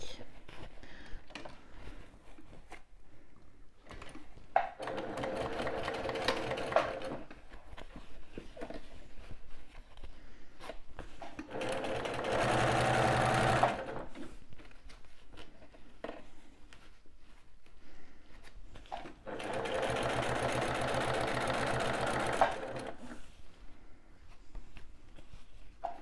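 A sewing machine topstitches an appliqué on a fabric pouch in three separate runs of soft, rapid stitching with quiet pauses between them, close and fairly faint.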